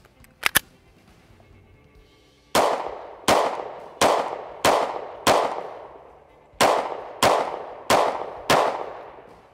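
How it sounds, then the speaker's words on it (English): A Walther PDP F-Series pistol fires at an outdoor range: two quick faint clicks, then ten loud, sharp shots in two even strings of five, each with a short ringing tail. "let's get out on the range, shoot this thing a ton"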